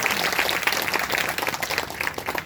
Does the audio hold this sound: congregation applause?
yes